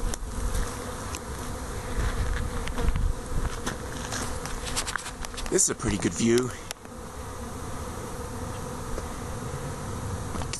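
Honey bee swarm gathered on the front of a box by a tree, a dense continuous buzzing of many insects close by, with a brief louder pass of individual bees near the middle and someone speaking briefly.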